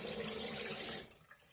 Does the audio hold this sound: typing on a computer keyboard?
no